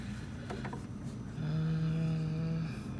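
A sewing machine stitches a band onto a V-neckline, its motor rising into a steady, fairly loud hum for about a second over quiet room noise.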